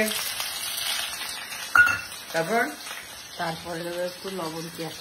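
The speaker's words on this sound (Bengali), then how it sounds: "প্রথমে দিয়ে দিল তেলের মধ্যে পেঁয়াজ ছেড়ে" Onions frying in oil in a pan for an egg curry, a steady sizzle running throughout with a sharp clink and bursts of scraping and stirring against the pan, close by.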